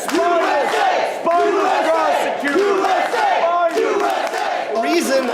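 A crowd chanting "USA" in a rhythmic, loud, repeated chant, each shout pulsing roughly twice a second, filling the space close and energetic.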